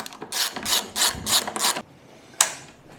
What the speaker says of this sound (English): Tighten the rear seat bolts.